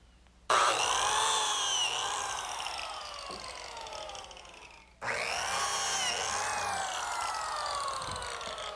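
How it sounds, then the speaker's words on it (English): A biscuit joiner cuts slots into the ends of wooden worktable runners in two loud, close bursts of whining motor and cutter noise, the first about four seconds long and the second after a short gap, with no talk. "the first thing I'm going to do is cut the slots in the ends of the runners"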